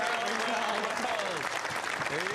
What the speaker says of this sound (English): justifiable applause from the crowd